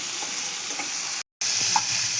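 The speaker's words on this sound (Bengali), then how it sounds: "মাছগুলো এক পিট ভাজা হয়ে গেছে আর এক পিট তুলে উল্টে নিব" Fish fry in a hot pan with a continuous, close sizzle and crackle that cuts out briefly for a moment before resuming.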